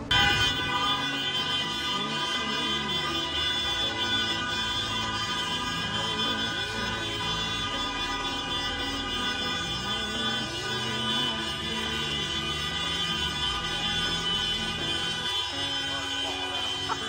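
A vehicle horn blares in sustained tones amid traffic noise in Morocco, with a siren-like wail and voices talking in the background.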